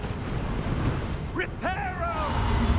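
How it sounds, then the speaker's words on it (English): Wind gusts roar steadily in the video game Hogwarts Legacy, a broad, constant rush with a voice speaking briefly over it partway through. "It's really windy."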